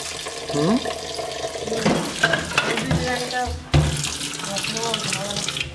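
Raw meat being rinsed under running water at a kitchen sink, with a steady tap stream and splashing, handling clatter and a short break midway; voices are faintly present in the background.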